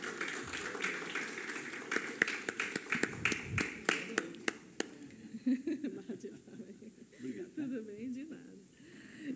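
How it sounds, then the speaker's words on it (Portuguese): An audience at an academic opening session on the Brazilian military dictatorship claps for a guest speaker, a scattered round of sharp claps that fades after a few seconds, with a voice speaking softly around it. "Uma salva de palmas."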